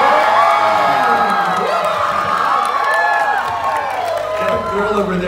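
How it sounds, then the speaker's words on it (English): A convention panel audience at San Diego Comic-Con screams loudly and steadily throughout, a dense wall of shrieks and cheering from a large crowd, with no break. "can we just randomly scream to freak them out, just like super loud"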